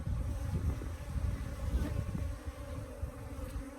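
Africanized bees swarm over old frames of drawn comb, their steady, dense buzzing filling the air close by with no voices.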